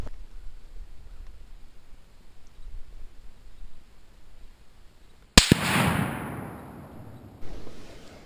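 A single Mossberg Patriot 30-06 rifle firing a Winchester 180gr Power-Point round from a bench blasts once after quiet outdoor ambience, a sharp loud crack followed by a long decaying rumble and a second fainter knock moments later.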